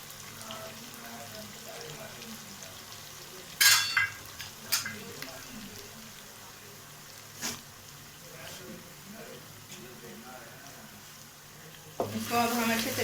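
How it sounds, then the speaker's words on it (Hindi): Garlic ginger chicken with sliced ginger being stirred in a pan, a soft steady sizzle under a few sharp utensil scrapes and clanks against the pan, close and moderately loud. "इसको अब हम अच्छे तरीके से मिक्स कर लेंगे।"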